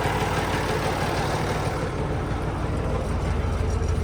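A T-150 crawler tractor's engine idles with a steady, loud, low rumble that holds evenly throughout, with no voices over it.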